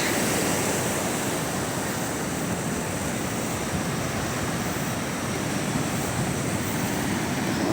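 Big ocean waves crashing on the shore of a storm-hit beach resort in Baler, Aurora, a constant loud roar of surf mixed with wind noise.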